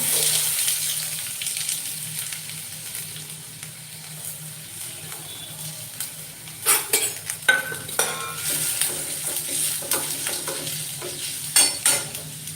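Steady sizzling of onions frying in hot oil, with occasional stirring scrapes and clinks of a utensil against the pan.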